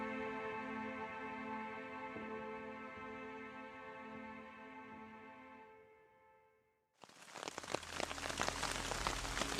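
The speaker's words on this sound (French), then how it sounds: "Nouveau réveil sous la pluie." Steady soft rain patters on a morning camp in the Morvan, fading out, then a denser, louder burst of rain noise takes over near the end, close and continuous.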